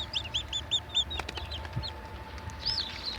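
Newly hatched chicks peep in quick high chirps, a hen clucking softly beneath them, with faint background noise and a few light knocks.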